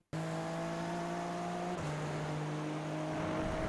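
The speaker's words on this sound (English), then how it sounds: "it does sound like the engine bogs down" A race car engine holds a steady, loud drone that dips in pitch and loses strength after a short upshift, then carries on droning evenly with no one talking.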